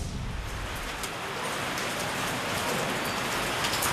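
Unexpected rain falling during the dry season, a dense, steady patter on surfaces that stays loud and even throughout, with no voices.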